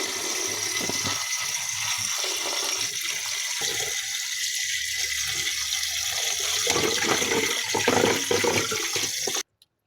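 Running tap water pours steadily and loudly while vegetables are washed beneath it, a continuous rushing stream that cuts off abruptly at the end.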